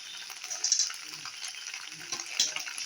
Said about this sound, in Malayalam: ഇതിനകത്ത് കുറച്ചും കൂടെ നമുക്ക് മിക്സ് ചെയ്യാം